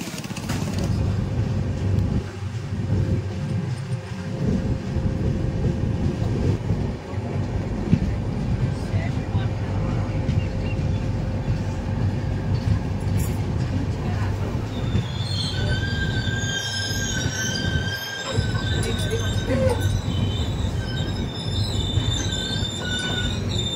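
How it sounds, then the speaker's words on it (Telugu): Mahabubnagar–Visakhapatnam Superfast Express (12862) pulling into Tuni railway station, with a steady loud rumble of rolling wagons and, in the last third, sharp high-pitched wheel squeals as it slows; faint voices in the background. "వన్ అవర్ 1 మినిట్ డిలేతో అయితే మనం ప్రెసెంట్ తుని రైల్వే స్టేషన్ కి అయితే చేరుకున్నాం."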